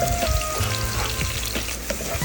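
Onion, garlic and ginger sautéing in oil for sinigang na bangus, a loud close dense sizzle with crackles and faint stirring scrapes, no voices.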